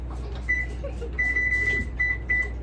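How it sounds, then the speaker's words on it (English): An oven's electronic control panel being set to preheat gives a few short high beeps, one longer tone among them, over a low steady kitchen hum with no talking. "Let me go turn on the oven."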